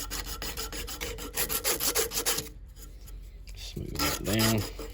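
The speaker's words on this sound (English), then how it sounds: "Sandpaper here. It works really well. Soft pewter." Sandpaper rubs back and forth over soft pewter on a trail knife with an antler handle, a steady rhythmic rasping for about half the clip, then quieter scraping as a voice speaks near the end.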